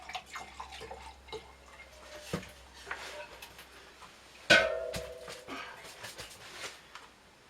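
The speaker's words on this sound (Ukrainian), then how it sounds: "Також відливаємо невелику кількість у меншу ємність." Grape chacha aged in an acacia wood barrel is poured into a smaller container, giving close, quiet trickling and dripping with a brief louder splash and clink midway.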